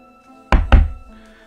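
A pair of close, heavy knocking bangs in quick succession from the video game Trilby's Notes, dull and thumping against a faint background hum.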